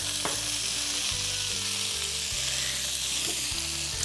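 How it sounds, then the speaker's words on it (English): Sliced yellow onion and small shallots, seasoned with salt and pepper, sizzle steadily in a hot pan, a close, continuous crackling hiss with a few soft clinks, heard on its own. "we're just gonna let that cook until those onions start to become just translucent, soften up just a bit"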